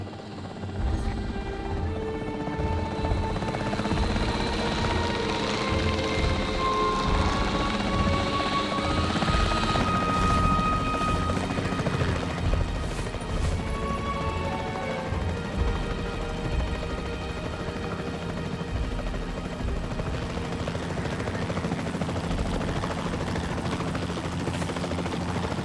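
A capture-team helicopter in the video game Jurassic World Evolution 3 drones with a steady rotor hum and engine whine, continuous and fairly loud for the whole stretch, with occasional faint bursts like gunfire mixed in.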